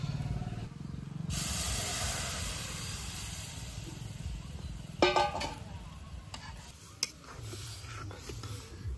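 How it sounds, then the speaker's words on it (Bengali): Vegetables tipped into hot oil over fried onion, garlic and five-spice seeds in a home kitchen for a mixed vegetable and lentil curry, giving a loud, steady sizzling hiss that runs throughout, with a couple of brief utensil clatters near the end. "পেঁয়াজ রসুন ভালোভাবে ভেজে নিচ্ছি এখন দিয়ে দিলাম 5 ফোড়ন সবকিছু খুব ভালোভাবে ভেজে নিচ্ছি এখন তেলে তরকারিটা দিয়ে দেই"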